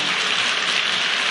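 A congregation applauds during a church sermon, a dense, steady burst of clapping that fills the whole short moment without pause.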